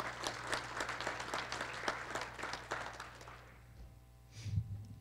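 An audience at a college State of the College address applauds with steady, rapid clapping that gradually fades out, followed by a brief low thump.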